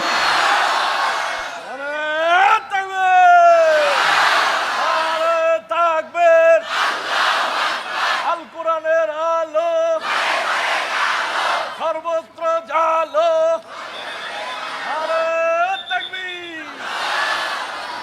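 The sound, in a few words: crowd shouting takbir, Allahu Akbar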